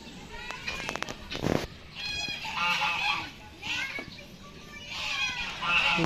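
A duck at a zoo in Pansol, Calamba, Laguna gives repeated nasal honks, loud and fairly close, among background chatter and children's voices.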